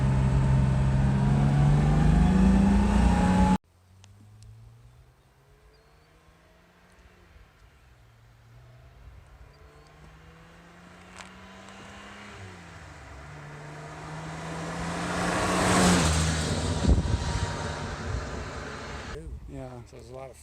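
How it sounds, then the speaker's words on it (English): A 1967 Jaguar E-Type cruises along a highway, its engine droning steadily with gear changes and rising road and wind roar, loud near the start and swelling again later; a person talks over it. "First driving the E-Type. It's just lovely. Great highway driver."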